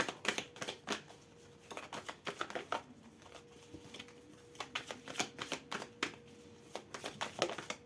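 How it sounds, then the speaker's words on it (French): Tarot cards shuffled and drawn by hand, a close run of quick crisp riffling bursts and soft flicks broken by short pauses, with no talk. "on va prendre une autre carte"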